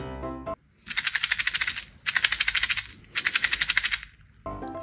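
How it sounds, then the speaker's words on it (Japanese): Three bursts of fast, bright rattling, like small plastic pieces shaken inside a capsule, each lasting about a second with short pauses between. "これもシャカシャカしたら音鳴るんでちょっとシャカシャカしていきます"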